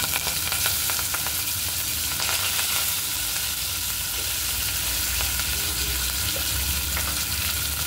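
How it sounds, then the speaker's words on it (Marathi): Cumin, mustard seeds and curry leaves sizzle in hot oil for an eggplant bharta, a loud, dense, steady frying hiss that holds unbroken for the whole stretch, with no voices. "आता आपलं तेल गरम झालेलं आहे, तर त्यात आपण टाकूया 1 चमचा जिरे, 1 चमचा मोहरी, कढीपत्ता,"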